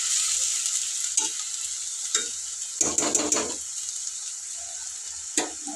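Green and dried chillies frying in oil on a low flame for an aloo methi curry, giving a steady close sizzle broken by a few short bursts of spatula stirring and scraping, with no talking.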